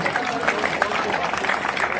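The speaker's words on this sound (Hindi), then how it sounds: "जब प्रस्तुति पसंद आई है तो जोरदार तालियां बजाएं।" Applause from an audience after a performance at a 75th Independence Day celebration: dense, continuous clapping with crowd noise running steadily throughout.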